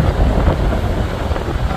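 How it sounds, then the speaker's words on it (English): Strong wind buffets the microphone on a beach, a continuous loud roaring rush with fluctuating bursts and no voices. "a big gust of wind blew my Buc-ee's cabana over and knocked my whole cooler over"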